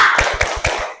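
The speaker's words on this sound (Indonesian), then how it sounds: "Tepuk semangat." A rhythmic 'tepuk semangat' clapping chant in a classroom lesson, made of a few quick, loud, close claps in a short patterned burst with soft thumps between them.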